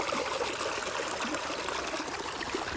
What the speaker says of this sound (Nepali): पानी चाहिँ मिठो फास्टमा गइरहेछ